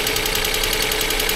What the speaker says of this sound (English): The engine's a little chattery.